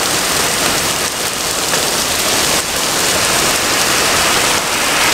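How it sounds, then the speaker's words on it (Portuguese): Heavy rain pours down in a steady, dense roar, close and loud, with no voices over it. "A chuva tá muito forte."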